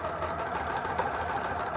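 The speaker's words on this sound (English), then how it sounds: "my sewing machine sews over pins." A sewing machine stitching face-mask fabric and running straight over the pins holding it, a steady, close, continuous motor whir with rapid needle clatter and no pauses.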